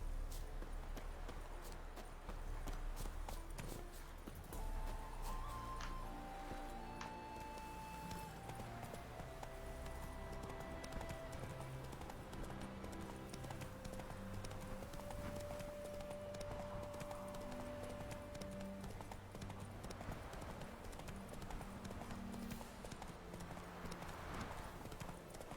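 Horse hooves clip-clop steadily in The Witcher 3, a continuous walking or trotting rhythm under game music throughout.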